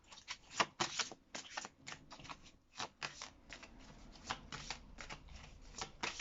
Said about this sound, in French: deuxième carte avec le super tarot de Nicoletta Cecoli